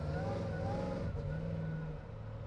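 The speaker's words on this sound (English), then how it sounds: "here we are in the Trans Am, and oh my god, does it sound amazing" Low rumbling 1978 Pontiac Trans Am engine idling and revving, heard inside the cabin, a steady throaty drone with a slight shift in pitch.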